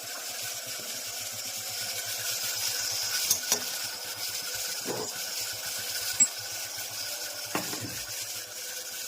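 Tomato tempering for a pea and brinjal vegetable curry sizzles softly in a pan, a continuous faint fry with occasional spoon clinks and stirring scrapes against the metal.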